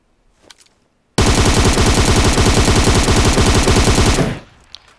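An M762 Beryl assault rifle fitted with an angled foregrip and a flash hider fires one loud, sustained full-auto burst of about three seconds in a shooter game, its rapid even reports ending in a brief decaying tail.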